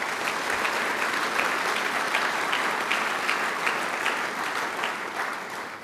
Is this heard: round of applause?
yes